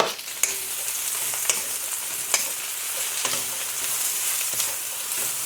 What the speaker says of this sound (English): And now I'm just going to throw in all the veggies. Get it nice and hot.